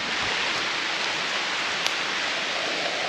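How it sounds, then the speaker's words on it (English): Heavy rain pouring onto a forest canopy above a solo hammock camp, a steady, dense broadband hiss that fills the whole stretch without pause and with no voices. "the rain's starting to come in a bit heavy"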